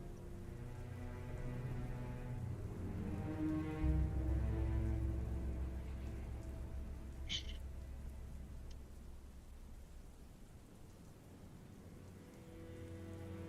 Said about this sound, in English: It's just rain pouring on your head